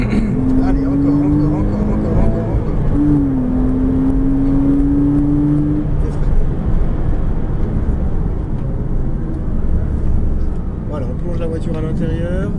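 Porsche Cayman S accelerating hard on a race circuit, heard from inside the car as a loud, steady engine drone with a rising tonal pitch, while an instructor talks over it throughout.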